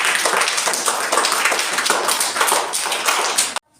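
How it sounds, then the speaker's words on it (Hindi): Children clapping hands together during a storytelling session, a fast, dense run of claps close by that continues steadily and then stops abruptly. "हाँ, ताली बजाओ भाई।"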